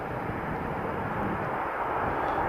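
A regional passenger airplane from Helsinki touching down at Riga airport in freezing, snowy weather, heard as a steady broadband roar that holds evenly throughout.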